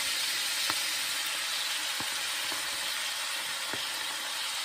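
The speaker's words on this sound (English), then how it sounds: "I'm just going to transfer these over to that skillet." Collard greens sizzling in a hot skillet, a steady loud hiss of frying with a few soft clicks and pops scattered through, no voices.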